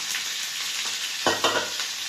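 Chopped garlic and onion sauté in a hot pan with a loud, continuous sizzle, broken near the end by a couple of brief stirring clatters, heard up close without talk.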